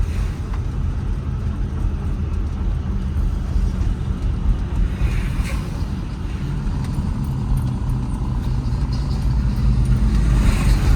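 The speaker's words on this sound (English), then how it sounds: "There's the downshift as I give it some fuel." A 1955 Packard Clipper Super Panama engine downshifts while driving, a steady loud low rumble of engine and road noise with the pitch climbing slightly as fuel is added, continuous throughout.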